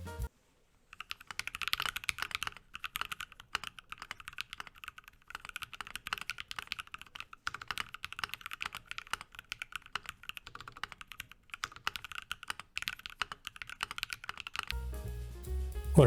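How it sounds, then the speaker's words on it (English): Rapid, crisp keystrokes from a mechanical keyboard with a brass plate, clattering continuously in an uneven typing rhythm, close and fairly quiet, ending abruptly. "I looked on YouTube to find a similar keyboard with similar stats"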